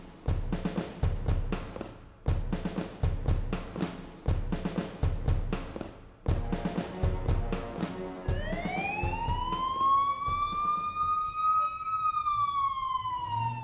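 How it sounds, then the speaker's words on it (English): Rhythmic beats pulse for several seconds, then a fire brigade siren rises and wails steadily over them, sustained and fairly prominent. "One night the siren continually rung."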